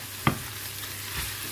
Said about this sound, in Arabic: هكا يتقلى شوية الفلفل